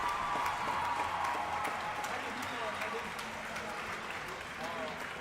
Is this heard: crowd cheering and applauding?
yes